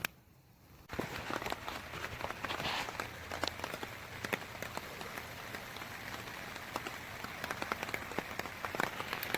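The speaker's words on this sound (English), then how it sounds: "now it's starting to rain a little bit" Light rain patters steadily at night at Rathtrevor Beach campground, with dense, scattered drops striking nearby surfaces. It starts abruptly after a quiet moment and continues without voices.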